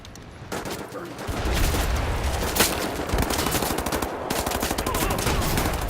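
Rapid gunfire from Wolfenstein: The New Order, with dense, continuous volleys at steady loudness and a sharp standout shot near the middle.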